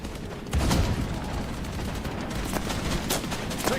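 A video game firefight with dense, rapid bursts of gunfire, loud and nearly continuous, with overlapping volleys rising in intensity partway through.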